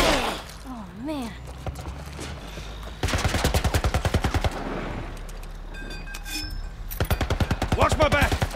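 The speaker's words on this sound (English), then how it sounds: "Kind of military turret." Bursts of rapid automatic fire from a military turret machine gun in The Last of Us, loud stuttering volleys in two long runs with a short burst between, over a low game ambience with brief voice-like sounds early on.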